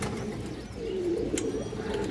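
Big-bodied, large-headed Palla line pigeons give a soft, low cooing murmur close by, steady and unbroken, against a faint background hiss.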